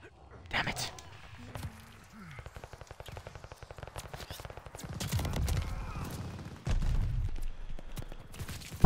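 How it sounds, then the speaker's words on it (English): Rapid machine gun bursts from a first-person shooter game rattle in dense, repeated volleys, with louder sustained stretches toward the end and some other game noise mixed in. "It's a machine gun more accurate than a sniper rifle."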